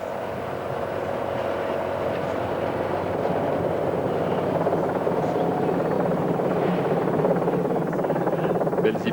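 A helicopter's steady, loud rotor drone hovers over the 1997 Paris–Nice cycling race stage from Saint-André-les-Alpes to Antibes, a continuous engine whir that rises slightly toward the end.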